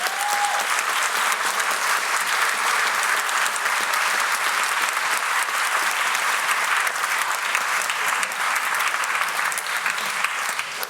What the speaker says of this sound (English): So could we please give our speakers and Gabriel and Ivan a round of applause?